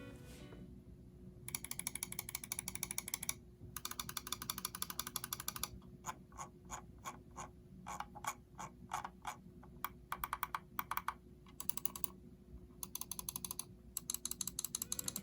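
Buttons of a ROCCAT Burst Pro gaming mouse being clicked, close up: bursts of rapid mechanical clicks alternate with slower single clicks in an uneven rhythm, against a faint background hum.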